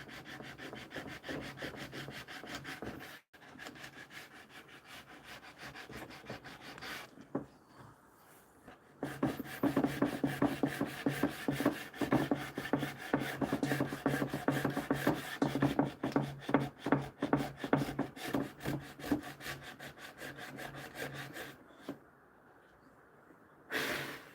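Sandpaper rubs back and forth across a hard wood cabinet door, a close, raspy scraping in rapid repeated strokes that grows louder and more vigorous midway, with brief pauses between passes.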